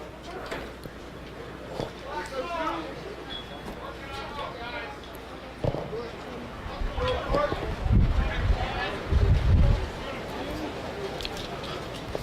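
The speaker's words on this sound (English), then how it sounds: "Still windy as ever here this morning. I thought it would die down, but it is still ripping through." Wind buffets a microphone in heavy, rumbling gusts, strongest near the end, while people talk in the background at an outdoor lacrosse game.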